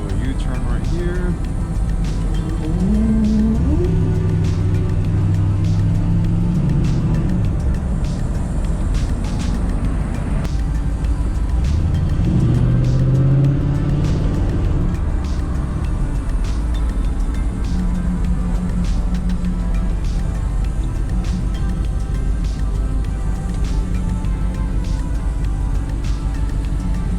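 A 1965 Ford Thunderbird drives and swings through a U-turn, its engine a steady loud drone heard from inside the car, with rising and falling pitch sweeps as it accelerates and eases off, and people talking over it.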